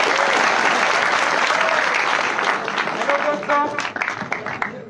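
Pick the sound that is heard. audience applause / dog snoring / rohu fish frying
audience applause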